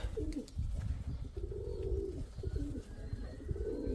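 A dove coos nearby in low, soft repeated phrases, with a rumbling, muffled background.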